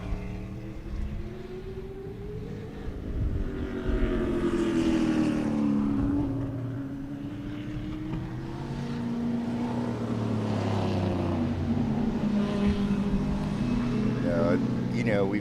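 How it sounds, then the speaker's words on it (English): Prototype and door-slammer race car engines roar and rev continuously in the distance at Sebring, with loud, rising and falling drones under a crowd's chatter. "sounds like you guys can hear the cars"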